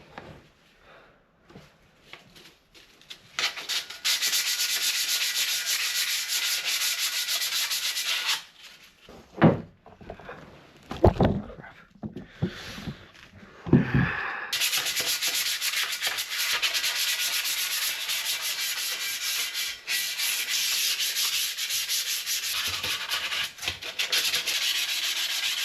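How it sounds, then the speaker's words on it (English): Alloy wheel sanded down by hand for repainting, steady close rasping strokes in two long sustained stretches, broken midway by a few seconds of handling knocks and scuffs, with no talk. "Right, all done. So, stage one, sanded down,"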